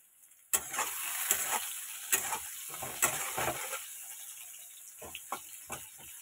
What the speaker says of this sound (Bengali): এই যে করলা ভাজাগুলো হয়ে গেছে, এবার আমি এটাকে নামিয়ে নিচ্ছি